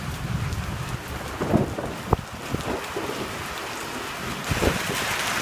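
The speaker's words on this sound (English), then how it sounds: "Just a good Northeast Texas thunderstorm" Rain pours steadily during a Northeast Texas thunderstorm, a dense wash of drops on surfaces with a sharp thunder crack and low rumbles rolling underneath, continuous and enveloping with no voices.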